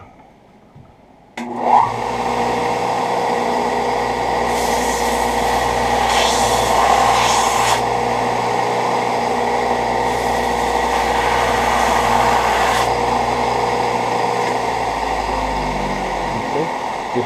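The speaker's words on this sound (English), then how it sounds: "I'm going to grind that off right quick" An electric grinder spins up after a short quiet start and runs steadily for the rest of the time, grinding leaked epoxy off knife handles in a workshop; the motor whine stays loud and continuous, with no talking over it.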